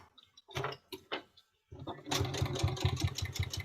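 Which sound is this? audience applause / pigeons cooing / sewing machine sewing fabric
sewing machine sewing fabric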